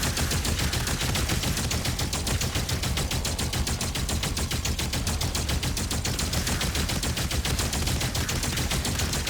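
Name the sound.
gunfire emptying ammunition in the video game DOOM The Dark Ages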